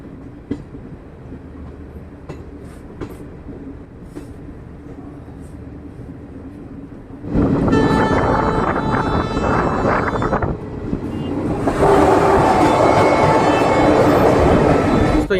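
Garib Rath Express passenger train running at around 100 km/h on the Chandigarh to Ambala route, heard from inside as a loud, steady roar with rattling and wind rush that swells even louder partway through.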